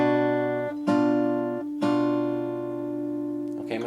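Chords strummed on an acoustic guitar for an arrangement: a sustained chord is struck three times at an even pace, the later strikes ringing longer, then a brief change near the end. It is played close and clear with no talking.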